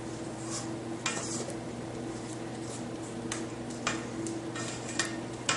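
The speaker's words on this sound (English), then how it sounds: "Stop and scrape the bowl again." A spatula scrapes cheesecake ice cream mixture with its cream cheese base from the sides of a mixing bowl, giving soft, intermittent scraping strokes and light taps over a steady low hum, with no talking.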